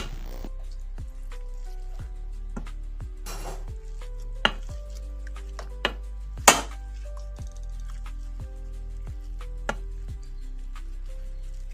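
Young wild fig fruit being crushed by hand for gravy in a home kitchen, heard as a steady run of soft, sharp taps and thuds with a few louder knocks over a low hum.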